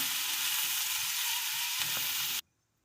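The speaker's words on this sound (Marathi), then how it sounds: "ह्या तेलामध्ये हा कांदा आता भाजून घ्यायचा आहे।" Onion fries in a spoonful of oil in a pan, a close, even sizzling hiss with a faint stir near the end, cutting off abruptly into quiet.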